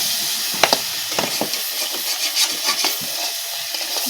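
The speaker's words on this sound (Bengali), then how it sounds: "যে আমার নাড়তে নাড়তে এরকম খুন্তিতে কত সুন্দর লেগে যাচ্ছে।" A metal spatula stirs and scrapes through thick curry of fish head and taro root sautéing in a pan, with soft scraping strokes and a few sharper knocks over a steady sizzling hiss.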